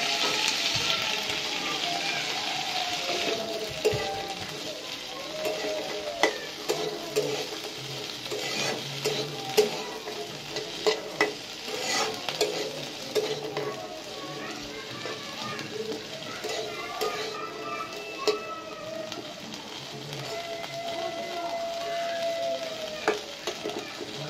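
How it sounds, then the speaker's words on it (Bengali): Garlic, green chili and thick-cut onion fry together in a pan with a steady, close sizzle, punctuated by frequent scrapes and stirring clatter throughout. "রসুন, কাঁচামরিচ, পেঁয়াজ সবটা একসাথেই দিয়ে দিলাম"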